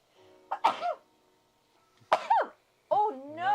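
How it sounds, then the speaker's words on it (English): A person sneezes a couple of times indoors, sharp nasal bursts with a gasping lead-in, followed by vocal groaning. "Oh, I need to sneeze."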